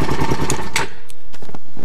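A KTM LC4 single-cylinder motorcycle engine fires up after a kick-start and revs sharply with a rough, loud, close thumping note, then the revs drop away and a few clicks and knocks follow.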